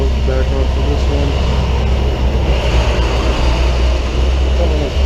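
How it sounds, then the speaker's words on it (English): Heavy trucks rumble past on a roadside near a medium-duty tow truck, a loud continuous low drone with steady broadband road noise filling the whole stretch, and a voice talks over it. "Some of those fucking trucks goes by now"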